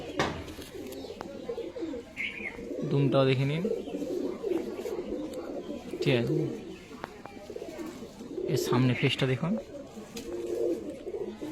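Andha Fulshira pigeons in a loft coo in low repeated phrases, several bursts spread through the clip, mixed with someone talking nearby.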